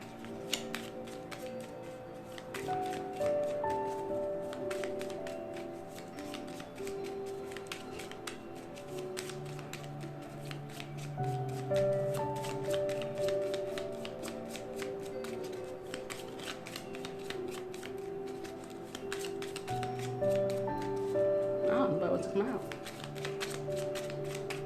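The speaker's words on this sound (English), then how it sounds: "let me pull you a goddess card" Goddess oracle cards are shuffled over and over, soft riffling and tapping in repeated bursts throughout, close by, under a voice talking, with music playing quietly behind.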